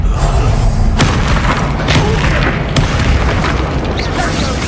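Confringo blasting spell explosions in the Hogwarts Legacy video game, loud booming blasts over a dense, continuous roar of game audio.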